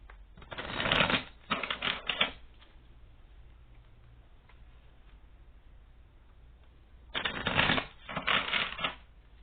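Two bursts of tarot cards being shuffled, each a quick flurry of papery riffling clicks, separated by several seconds of near quiet.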